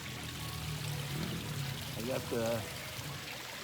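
Water pours steadily from a backyard waterfall feature, a continuous broadband rush heard close by beneath a voice talking over it.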